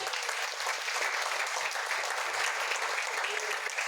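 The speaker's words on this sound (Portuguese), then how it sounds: "Pode aplaudir o Senhor." A church congregation applauds in worship, a dense, steady burst of clapping from many hands filling the room at an even, fairly loud level for a few seconds.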